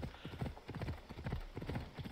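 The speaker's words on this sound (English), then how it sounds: "I know it's a little late to summon that horse now" A horse's hooves clip-clop in a video game, a steady, quick rhythm of hollow knocks at moderate distance that stays fairly quiet and continuous throughout.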